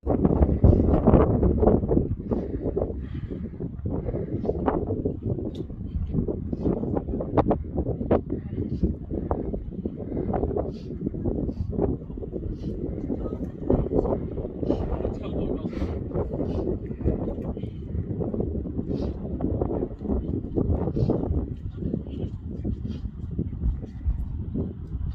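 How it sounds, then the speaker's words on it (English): Steady wind roars and buffets the microphone on an open moorland hilltop at Saddleworth Moor, a continuous low rumble with gusty surges throughout, loudest at the start. "It's a bit breezy up there"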